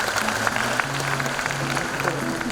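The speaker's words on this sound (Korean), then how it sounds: "이기현 의장님을 큰 박수로 맞아주시기 바랍니다" A citizens' report meeting in Gwangyang welcomes the city council chairman with steady, moderately loud audience applause, and a low background tone runs beneath the clapping throughout.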